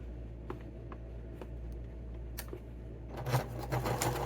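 A sewing machine stitches behind the band of a knit winter beanie, giving a close, steady mechanical whir that speeds up into a denser rapid run toward the end, with no voices.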